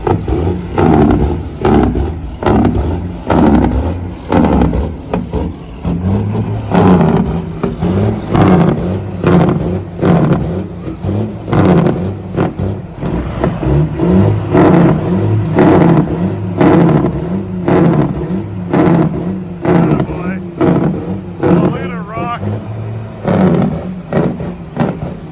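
A Smokey and the Bandit tribute truck with 8-inch exhaust flappers revs its engine up close, a loud, sustained roar that surges in repeated pulses with metallic clatter and rattle from the flappers.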